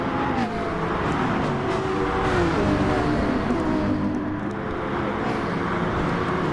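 Lamborghini and Nissan GTR GT3 race cars in a video game sprint race at Lago Maggiore, continuous loud engine roar with shifting pitch as the cars accelerate, close and sustained without a break.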